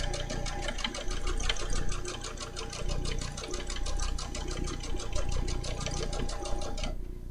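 A domestic sewing machine running steadily while quilting, a fast rapid needle chatter with a mechanical hum, continuous and close before stopping near the end, with no voices.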